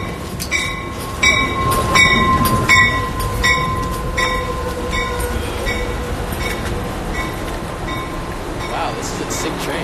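A train rolls past close by, its heavy steady rumble carrying rhythmic clicking of wheels over rail joints and a sustained metallic squeal, loud throughout.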